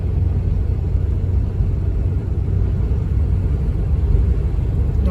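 A 2006 Toyota Tundra's engine labors uphill in a deep, steady low rumble that drones continuously at a constant level, with no voices over it.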